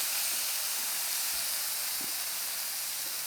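Beef sears in a hot pan for a Thai beef salad, making a loud, steady hiss and sizzle that runs unbroken throughout with no voices.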